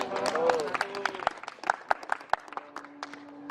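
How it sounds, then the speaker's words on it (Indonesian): Students in a physical education relay-running class give scattered applause, irregular sharp claps from a small group, moderately close, with voices and chatter running through the background. "Oke, beri tepuk tangan."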